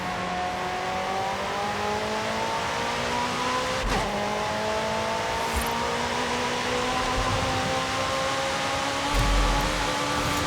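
A tuned 900HP McLaren 650S Coupe in Forza Horizon 5 holds a loud, steady engine drone with harmonics that slowly rise and fall, a brief sharp burst near the middle, no speech.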